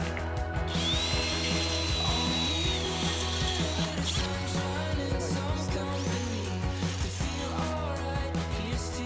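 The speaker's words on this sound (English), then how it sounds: "Now I'm going to switch to a step bit and open up the holes to the right diameter for the cable." Power drill spinning a step bit to widen cable holes during exterior work on a Navy barge houseboat: a steady, close, high whine with grinding and chattering under it, continuous throughout and no talking.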